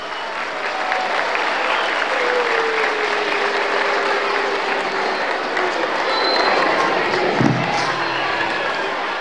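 A crowd applauds the parents' council president at a school kindergarten event in Sacaba, Cochabamba, Bolivia, with steady loud clapping, faint crowd voices and a thud near the end.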